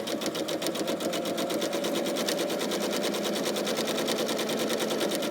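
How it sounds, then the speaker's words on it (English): A sewing machine stitches a quarter inch in from the edge of a fabric coaster, running steadily with a fast, even mechanical rattle throughout, close and continuous, with no talk. "we're going to sew 1/4 of an inch in from the edge, and we're going to go on all 4 sides"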